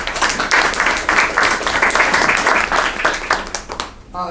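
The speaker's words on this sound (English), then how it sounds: "So let's start with giving our panel a round of applause" An audience at a certification and funding seminar applauds its panel, dense clapping rising and falling in waves before cutting off abruptly near the end.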